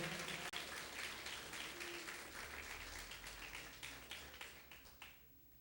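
A church congregation applauds during a sermon, a fairly faint mass of clapping that thins toward the end into separate, scattered claps before fading out.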